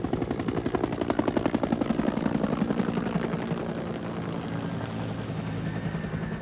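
Huey helicopter gunships flying overhead, a loud steady rotor chop with dense rhythmic blade thumping and engine whine, sustained throughout.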